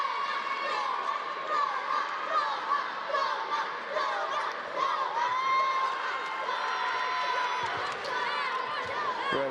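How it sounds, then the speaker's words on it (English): Children in the crowd at a karate qualification tournament in Paris cheering and shouting for a French competitor, a steady dense roar of high young voices throughout, loud and continuous. "they're cheering their French competitor that's just come on"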